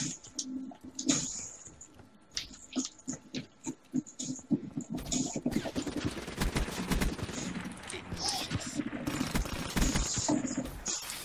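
Machine gun fire rattles in Call of Duty Black Ops 3 multiplayer, starting as scattered shots and building into dense, sustained bursts over the second half, with game ambience and no talk.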